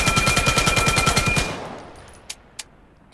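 A UMP45 submachine gun with an AR scope fires in a rapid, even automatic burst in a VR shooter for about a second and a half, then stops, leaving a fading tail and two brief clicks.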